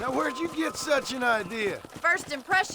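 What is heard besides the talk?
No everyday noise stands out behind the speech.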